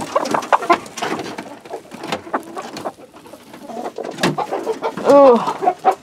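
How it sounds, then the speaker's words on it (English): Several hens cluck and coo inside backyard nesting boxes on a winter day, their busy, overlapping calls close by, rising to a louder burst of clucking near the end. "there's a couple of chickens in there"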